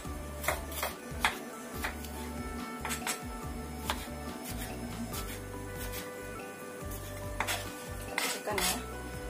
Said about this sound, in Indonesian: saya akan iris 2 siung bawang putih dan 1 butir bawang merah. Kita iris tipis-tipis seperti ini aja.